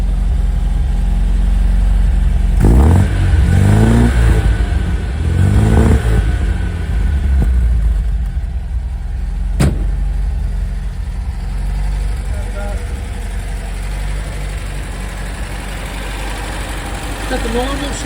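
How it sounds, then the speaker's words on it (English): A 1968 MGB Roadster engine running at idle, a steady mid-pitched hum held for the whole stretch with a couple of brief revs early on and one sharp click midway, close by and fairly loud. "Got the normal sounds of an MG, no excessive clatter or noise."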